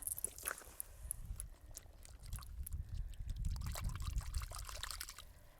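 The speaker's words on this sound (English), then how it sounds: "Let's give it a little rinse." Creek water trickles and splashes as a small found object is rinsed, soft close-up dribbling and light sloshing with scattered drips, faint throughout and with no speech.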